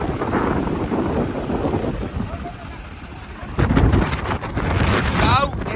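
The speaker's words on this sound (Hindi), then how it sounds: "कहा कि बहुत तेज आंधी तूफान आई गया है।" Strong storm winds roar across an open farm field, a steady broadband rush of gusting air buffeting the microphone, swelling louder in the last seconds with flapping and rattling, loud and continuous with no clear speech.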